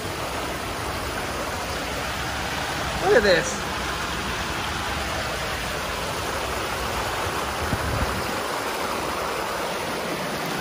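A huge rushing flow of water pours into Big Bear Lake, California, a steady broad roar close to the listener, with a brief voice near the middle and a few footsteps or splashes.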